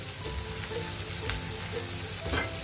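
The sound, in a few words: onions frying and being stirred in pan with salt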